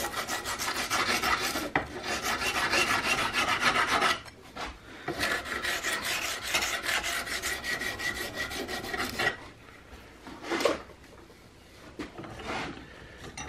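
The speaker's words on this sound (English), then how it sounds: "you're just filing and sanding to your preference" Hand filing on the wood and metal of a CVA Hawken muzzleloader rifle stock and butt plate, close continuous rasping strokes in long runs with short pauses, no talk.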